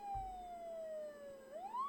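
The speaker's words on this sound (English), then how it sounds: "The faint ringing of police sirens can be heard from the surface." Faint police sirens from the Fatal Twelve game drift in from the surface, a thin tone that slides slowly down and then climbs again, heard quietly with a brief low thump at the start.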